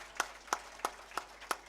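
Faint, sparse clapping at a police station inauguration in the Biscuiterie-HLM district: five sharp, evenly spaced claps about a third of a second apart, distant and thin.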